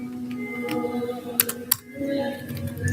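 Computer keys clack in a brief cluster of taps and a few sharper presses, close and moderately loud over a steady hum, during a Python-Django programming session.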